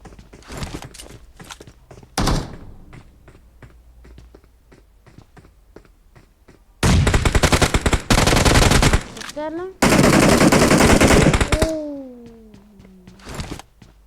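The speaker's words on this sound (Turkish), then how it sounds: "Adam sıkıyor ya. Harbi sıkıyor ya." Gunfire in a PUBG Mobile match on the Livik map comes as scattered single shots and then two long, loud bursts of rapid automatic fire. A player's voice sounds faintly in the background.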